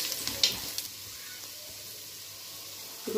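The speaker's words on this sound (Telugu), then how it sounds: "కాసేపు బాగా ఫ్రై చేసుకున్నాము." Spices and paneer frying in a pan for paneer pulao, a soft, steady sizzle with a few light stirring clinks near the start and end, quiet and close.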